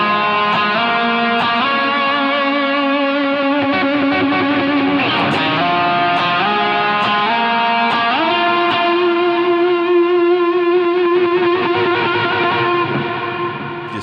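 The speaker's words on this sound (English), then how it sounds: "So here's what the intro sounds like." An electric guitar plays a sustained, distorted melodic line drenched in heavy reverb, notes blurring together into a continuous wash of sound.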